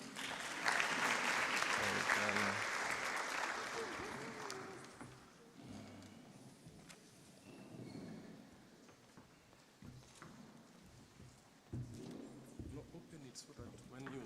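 Audience applause at a university faculty of management and law research day, loud dense clapping for the first few seconds that thins out as talking voices take over.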